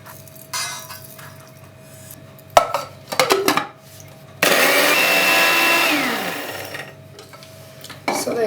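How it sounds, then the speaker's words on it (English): A kitchen grinder blends roasted green chutney ingredients, a loud whirring run rising in the middle of the clip, with clinks of the jar and lid before and after and a steady motor hum underneath. "Now, just going to lift this up and it goes into my grinder."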